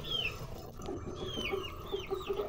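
Chickens cluck steadily around an automatic poultry waterer, with soft repeated clucks and higher calls overlapping close by against a constant farmyard murmur, no talking.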